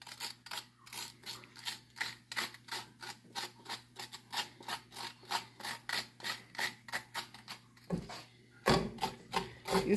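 Spoon scraping strands out of a cooked spaghetti squash, a close, rhythmic series of rough scrapes repeating about twice a second, briefly pausing before a louder burst.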